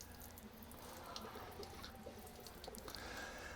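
Water draining from the low point drain valves underneath a Class A motorhome during winterizing: a steady, faint splashing and trickling stream with scattered drips, continuous throughout and not loud.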